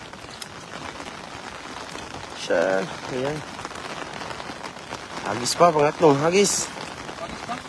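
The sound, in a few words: rain falling outdoors while fishing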